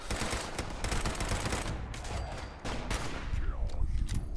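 Rapid gunfire in the video game Fallout 76, a loud, dense stream of shots with brief breaks, continuous throughout and up close, with a voice faintly under it.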